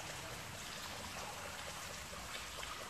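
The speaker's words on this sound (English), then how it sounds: "There's lots of drippy water." Water drips and trickles inside a dark canal tunnel at night, a steady wash of wet, hissing noise with no clear individual drops standing out.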